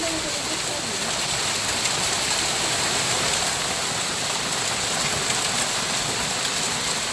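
Hail pelting down in a brief storm, a continuous roaring patter of pellets striking surfaces nearby, steady and loud, with a faint voice briefly at the start.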